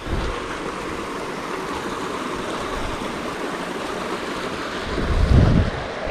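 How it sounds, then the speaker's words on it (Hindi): Cold snowmelt stream flowing down a mountainside in Uttarakhand, a steady broadband rush of water close by, with a brief louder surge near the end. "ऐसे ऊपर से ये स्नो मेल्ट होकर नीचे आती है और बहुत ठंडा पानी होता है"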